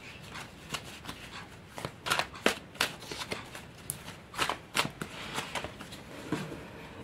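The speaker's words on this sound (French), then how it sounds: "Alors, je vais tirer une troisième carte." Tarot cards shuffled and drawn during a French tarot reading: a string of soft, brisk paper riffles and flicks in irregular bursts, close and moderately quiet, with no talking.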